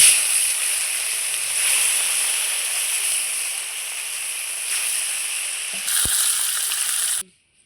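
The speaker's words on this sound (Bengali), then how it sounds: "এইভাবেই সমস্ত মাছগুলো আমি ভেজে নেব।" Fish frying in a pan for a Bengali-style fish dish: a steady, close, bright sizzle runs for about seven seconds, brightening briefly near the end before cutting off into silence.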